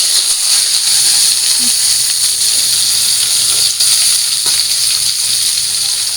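Oil hisses steadily in a wok as it heats before shrimp curry is cooked, a loud, continuous close sizzle that holds unbroken throughout.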